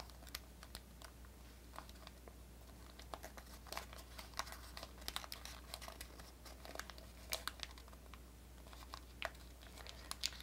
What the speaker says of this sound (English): See how the paper's getting a little bit crinkly